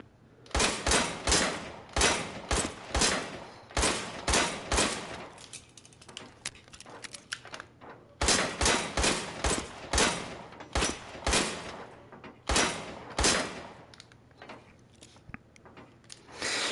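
Rapid gunfire from a laser-sighted, 1980s-era firearm in a VR shooting range game, delivered in several quick bursts of sharp cracks with brief pauses between volleys, close and loud without any talking.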